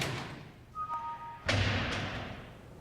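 An impactor hammer strikes a Dainese motorcycle back protector in a drop test, landing as a single heavy thud midway, preceded by a brief electronic whine and followed by a fading rattle.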